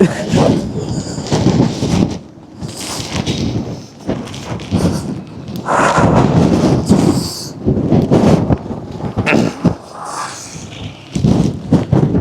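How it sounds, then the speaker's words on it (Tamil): Strong wind at Ambewela farm in Sri Lanka buffets the microphone in loud, rough gusts that surge and drop repeatedly, with voices audible at times. "ஒரு ஆள் இழுக்கிற அளவுக்கு காத்து"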